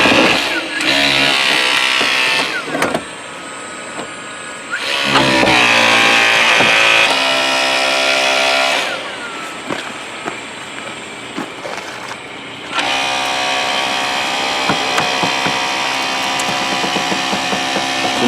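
Hydraulic spreader forcing a vehicle door hinge apart: a loud, grinding mechanical whine that surges and drops in several long bursts, with creaking metal strain between the pump runs.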